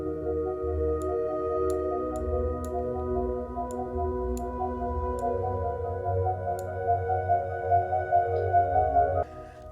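A plucked Kontakt synth plays a simple repeating EDM chord progression, bright and steady, with faint ticking clicks above and a bass pulse near the end.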